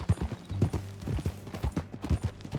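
Horse hooves clip-clop steadily in the Red Dead Redemption 2 video game, a quick rhythmic series of soft dull thuds at a walking-to-trotting pace, close and moderately quiet with no talk.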